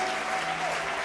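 A church congregation applauds the Lord after a $750,000 offering is completed; a dense, steady wash of clapping fills the whole short moment without pause.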